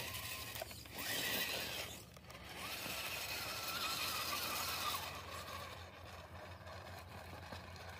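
Drivetrain of an RC rock crawler grinds and whirs steadily as it climbs, with its wheels spinning for grip, a busy mechanical rattle and creak that swells and eases without pause.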